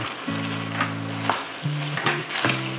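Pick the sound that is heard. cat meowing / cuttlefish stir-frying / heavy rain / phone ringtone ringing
cuttlefish stir-frying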